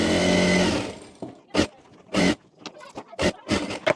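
A sewing machine stitches belt loops onto a straight box-style trouser, running steadily for about a second and then firing in short, separate bursts with brief pauses between, close and fairly loud, with no talking.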